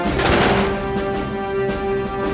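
Gunfire rings out in a staged Napoleonic-era battle scene, a loud burst followed by scattered shots over a steady musical drone.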